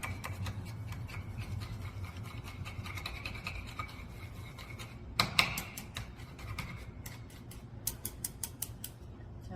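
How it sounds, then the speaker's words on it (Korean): Egg yolks with a little salt being beaten with a whisk or chopsticks for a Korean dish, producing a continuous fast scraping and clicking against the bowl, close-up, with a few sharper taps near the end. "소량의 소금을 넣어서 풀어 놓습니다."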